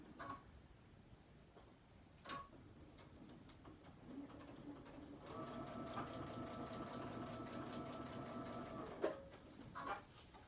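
A home sewing machine stitches fabric exactly at a pin to match a point on a quilted mug rug, running in a steady fast mechanical whir for several seconds after a few short starts, close and moderately loud with no talk.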